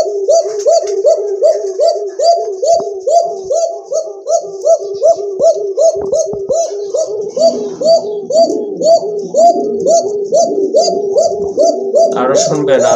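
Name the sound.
male pigeon cooing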